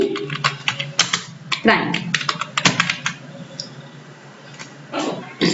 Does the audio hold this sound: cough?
no